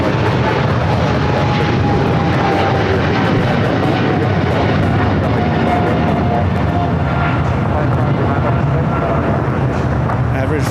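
A jet airliner takes off at LAX with a loud, continuous broadband engine roar that holds steady without letting up, while someone talks over it.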